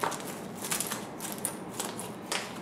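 Blade cutting open a package of dry goods: a quiet run of brief crinkly rustles and slicing scrapes, close by, with no talk.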